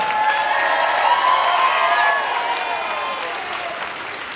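Aboard the cruise ship Enchantment of the Seas, an audience at a cake challenge bursts into loud applause for the hotel director's cake, with cheers, whoops and shrill shouts riding over the clapping before it gradually thins.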